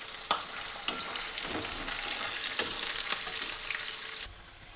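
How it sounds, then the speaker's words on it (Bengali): Onions fry in hot oil until reddish-brown, a steady close sizzle broken by occasional clicks and scrapes of stirring, alone with no voices, then dropping quieter near the end. "পেঁয়াজটা ভালো করে লাল লাল করে ভেজে নেব"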